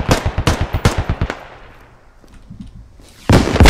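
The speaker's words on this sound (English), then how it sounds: "Oh, fuck, just took a rocket." A rapid burst of gunfire followed by a loud blast in the video game Squad, a sharp series of close cracks, a brief quiet decay, then another heavy impact.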